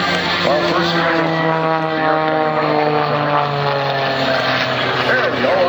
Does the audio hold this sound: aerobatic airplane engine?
yes